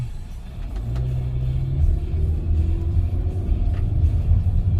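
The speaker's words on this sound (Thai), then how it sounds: "ไปกันเลยครับ ออกตัวเข้าเกียร์ดีครับ เกียร์หนึ่ง" A Toyota Camry 2.4 Q VVT-i pulls away in first gear, its engine a low steady rumble rising gently as the car accelerates, heard from inside the cabin with no talk.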